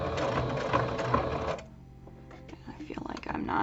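A sewing machine stitching an Amazon package cover, its fast whirring run loud for about a second and a half before stopping, then quieter handling sounds and a brief restart.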